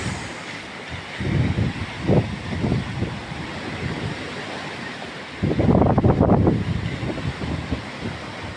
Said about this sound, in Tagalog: Hindi pa rin umina yung hangin